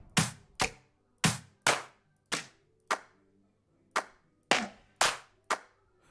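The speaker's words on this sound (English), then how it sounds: "let's get a nice clap" Crisp clap drum sample in a deep house beat, struck alone in a sparse pattern of about a dozen sharp hits with short decays, spaced unevenly and prominent.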